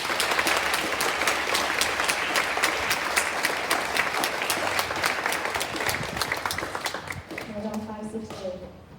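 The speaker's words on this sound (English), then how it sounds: "Please give these students a round of applause." A school Stage 3 presentation day crowd claps for award-winning students in a full, steady round of applause that fades near the end as a voice begins talking.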